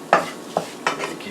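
A roux for gumbo being stirred in a pot, three or four close, distinct scraping strokes in a quick, uneven rhythm.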